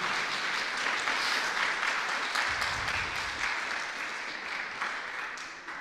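A church congregation applauds during a sermon, a dense, continuous wash of many hands clapping that holds steady and tapers slightly at the end.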